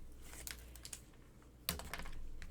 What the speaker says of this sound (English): So first thing I'm going to do is take my tape off.